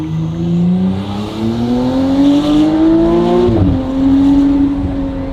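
A McLaren Artura with a free-flow race exhaust revs and climbs steadily in pitch with a raspy exhaust note, briefly dropping as it shifts, then pulling again, loud and close.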